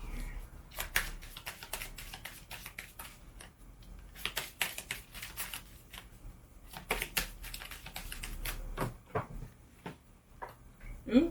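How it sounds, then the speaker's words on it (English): Tarot cards being reshuffled by hand, giving quick bursts of crisp, papery clicking and riffling in uneven clusters, fairly close and moderately quiet. "So I'm just going to reshuffle here"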